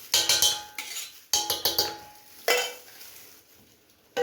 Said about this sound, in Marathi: याच्यामध्ये आपण टाकून घेणार आहोत दही